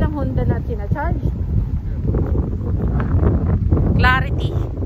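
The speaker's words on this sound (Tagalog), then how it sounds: "Sobrang lakas ng hangin." Strong wind buffets the microphone outdoors at a parking area, a constant low roaring rumble throughout, while someone talks over it.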